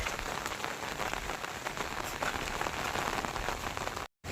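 Rain falls steadily during a walk beside the Saraswati river in Siddhpur, a dense, even patter on surfaces heard close and continuous, and it cuts off abruptly just before the end.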